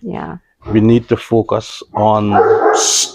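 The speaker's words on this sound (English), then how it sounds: "The male guy probably showed up and she's barking." A female pet dog barks and yips in the background of an indoor podcast recording, short bursts heard under and between a man's close speech.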